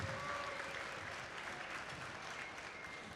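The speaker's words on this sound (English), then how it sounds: "Please give them a huge round of applause" An audience at a robotics competition opening ceremony in Statesboro claps in sustained, dense applause that stays fairly even across about three seconds, heard at a distance in a large hall.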